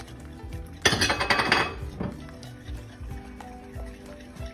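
Corn soup with tomato and oyster sauce stirred in a metal pot, a utensil scraping and clinking loudly for about a second, then quieter intermittent knocks and bubbling.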